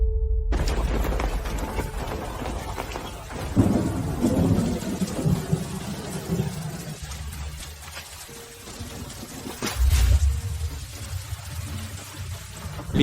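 Heavy rain pours steadily while deep thunder rumbles roll in twice, the second loudest near the end, with no voices over the storm.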